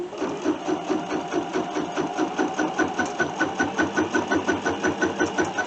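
A Bernina sewing machine with a snap hoop stitches a quilt in a steady, rapid, even mechanical rhythm, close and moderately loud, running alone without talk.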